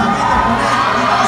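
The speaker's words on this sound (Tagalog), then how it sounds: "At mukhang mas malakas ang cheer ng likuan bahay" Basketball crowd at a local league game cheering loudly during free throws, a dense roar of shouting voices and youthful yells sustained throughout.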